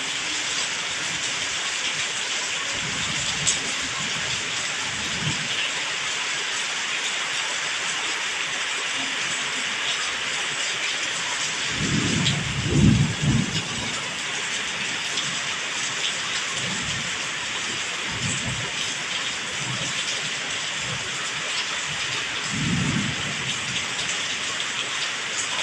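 Heavy rain pours steadily during a rainy-season thunderstorm in Thailand, a constant dense hiss with several low rumbles of thunder rolling in and fading, no talking heard.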